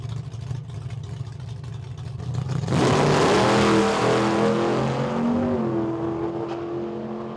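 An AMX Javelin drag car launches hard off the trans brake at about 3,500 rpm after a loud idle, roaring up through rising engine harmonics, close and very loud, with no talk.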